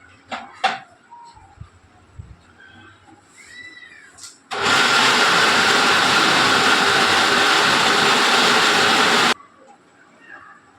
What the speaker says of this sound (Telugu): ఈ చల్లారిపోయిందని ఇందులోనే వేసి మిక్సీ అయితే పట్టేస్తాను